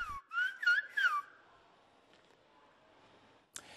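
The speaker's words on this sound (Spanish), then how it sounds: "el silbo gomero." Silbo gomero, the whistled language of La Gomera in the Canary Islands: a few short, clear whistled phrases with rising and falling pitch, followed by a quiet background and a sharp click at the end.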